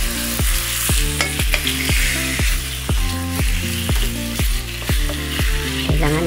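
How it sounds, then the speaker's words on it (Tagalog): Chicken sizzles in a pan with browned garlic for sweet chicken adobo, with steady loud frying crackle and a regular series of scraping stirs. "Medyo brown na siya. Hindi kailangan sunugin. Dito, ilagay na natin yung ating chicken."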